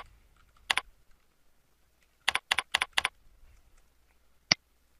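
Password typed on a computer keyboard in a quiet room: a single key click, then a short burst of four or five crisp taps, then one final sharper press after a pause.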